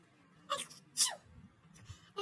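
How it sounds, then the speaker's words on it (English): A person gives a loud sneeze, followed by a second sharp burst about half a second later and a fainter one near the end, with no talk in between. "Achoo!"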